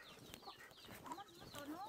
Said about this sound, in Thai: โอ้ไก่ก็มีแต่ตัวงามๆนะครับเนาะ